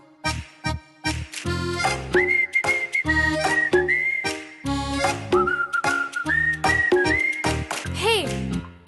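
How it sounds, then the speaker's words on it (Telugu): A person whistles a bright, sustained tune in a Telugu film song, the melody weaving over loud backing music and rhythm with short pauses between phrases. "ఇంకొకసారి విజిల్ అయ్యవా ప్లీజ్ ప్లీజ్ ప్లీజ్."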